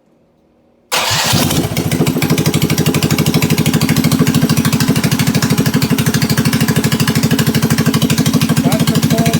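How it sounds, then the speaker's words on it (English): A minibike engine cold-starts after a second of silence, catching at once and settling into a loud, close, rapid and steady putter with no talk. "That's a cold start right there. Started right up."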